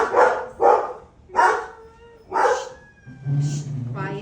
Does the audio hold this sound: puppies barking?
yes